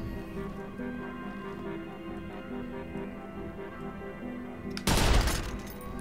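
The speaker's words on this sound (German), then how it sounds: "Kopfschuss" A single sharp, loud gunshot lands a headshot in the video game Watch Dogs, bursting out near the end after several seconds of quiet in-game ambience and music.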